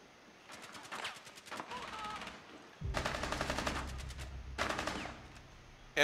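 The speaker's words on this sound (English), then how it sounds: "NTR's exchanging shots with someone at A" Rainbow Six Siege gunfire exchange at the A site on the Presidential Plane map: rapid automatic bursts crackle in several clusters, separated by short gaps, with a heavier low rumble joining midway.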